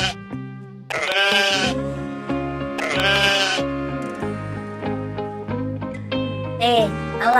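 A few wavering sheep bleats rise over a cheerful musical backing, each bleat lasting under a second and spaced apart.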